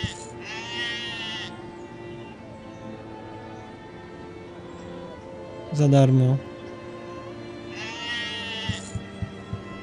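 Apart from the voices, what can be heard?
sheep bleating in the video game Arcanum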